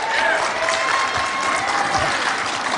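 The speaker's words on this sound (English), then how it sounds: "So would you give Justis Prizio a round of applause?" A church audience applauds steadily for a scripture reader at a Sunday morning service, a dense even wash of clapping throughout with faint murmur mixed in.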